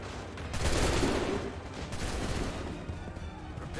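Massed musket volley gunfire in an Assassin's Creed battle, a dense burst of overlapping shots swelling loud early then rolling on as a sustained crackling fusillade with distant booms.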